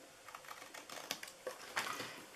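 Scissors snip through fabric while a Santa treat bag is being made, giving a quick run of light, crisp cuts that sound close and fairly quiet, with no talking.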